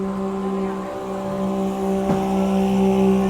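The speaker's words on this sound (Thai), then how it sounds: "เสียงเรือหางยาวมาพอดี" A steady, droning longtail boat engine hums loudly throughout, swelling slightly as it passes nearby on a canal, with a low buzzing tone and no voices.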